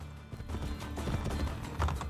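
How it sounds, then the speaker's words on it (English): A horse's hooves clop in a quick rhythmic gallop in Assassin's Creed Brotherhood, with a muddy game soundtrack underneath, short and moderately loud. "The Volpe's horse seems to go way faster than mine."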